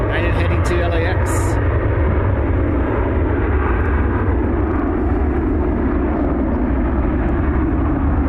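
A United airliner departing Cleveland Hopkins for LAX, its jet engines a loud, continuous low roar that stays steady and close, with a brief higher burst of noise early on.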